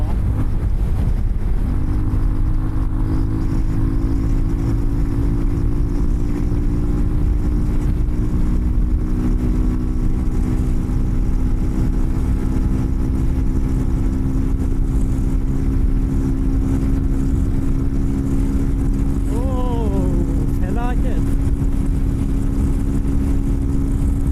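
A Benelli TRK 251 motorcycle engine drones loud and steady at high speed for the whole stretch, with wind rush and a rising whine as it strains uphill in traffic.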